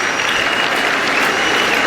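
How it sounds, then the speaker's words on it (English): Cricket crowd at an England v India Test match applauding the 50 partnership, a steady, dense wash of clapping from a large gathering, sustained and fairly loud throughout. "there's genuine applause, folks."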